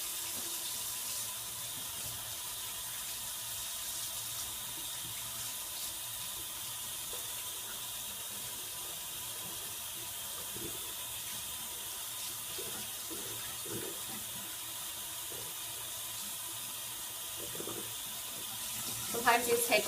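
Makeup blending sponges are washed under a running bathroom tap, giving a steady, moderate stream of water with faint squeezing and handling sounds throughout.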